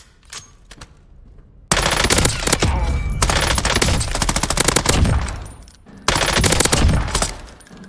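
An assault rifle fires in long, rapid automatic bursts at a Warzone firing range, loud and close, with short pauses between the strings of shots and a few single shots at the start.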